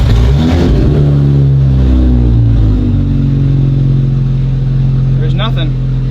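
A Lexus 1JZ engine runs loud and close, a steady deep idle that swells in a brief rev near the start and settles back, with a short metallic clatter toward the end.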